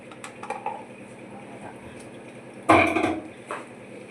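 A spoon scrapes and clatters against a metal pot while stirring spices such as cumin powder, with one loud burst of stirring midway and lighter clinks before and after.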